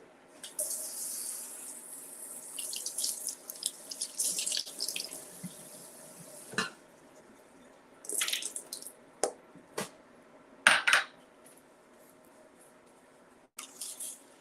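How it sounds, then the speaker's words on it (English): Food being rinsed under a running kitchen tap while making banana pancakes, with steady splashing water for several seconds, then short separate bursts of water and drips against the sink. "let's just get these rinsed off"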